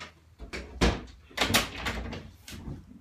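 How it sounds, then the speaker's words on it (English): Wooden cupboard doors are shut several times in quick succession, with soft thumps and clacks close by and no talking. "close those doors."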